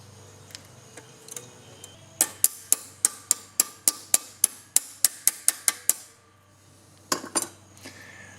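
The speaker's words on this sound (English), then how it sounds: "I'm just going to pinch the top of this cotter pin together so I can push it through and release that piston." Metal clicks from working a cotter pin free on a hydraulic floor jack: a few scattered taps, then a fast, even run of about fourteen sharp ticks, then silence and two or three final clicks, close and fairly loud.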